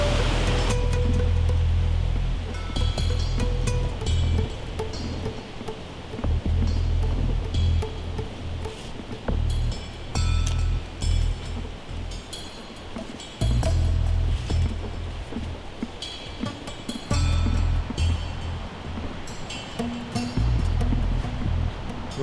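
Raging river rapids roar loudly and continuously at close range, a dense churning rush of white water with no talk over it.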